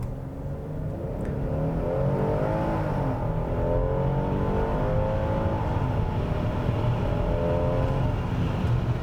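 A 2021 Hyundai Palisade Calligraphy three-row SUV accelerating hard through a 0 to 60 run, with a loud, steady engine drone and rising gear-shift sweeps heard from inside the cabin, no talking.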